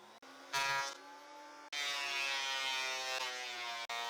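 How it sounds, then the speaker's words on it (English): A thickness planer feeds wood parts through to bring them to a uniform 20 mm, giving a loud, steady mechanical whine with dense harmonics, briefly dipping between passes and rising again as each board runs through. "Next, I'll run all the parts through the thickness planer to make the thickness uniform"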